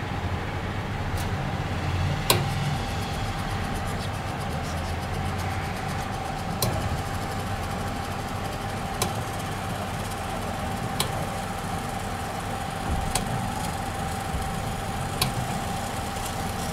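A small DC motor running at 12 volts turns a robot wheel, giving a steady buzzing whine with a constant tone and faint regular clicks, close and continuous with no talking.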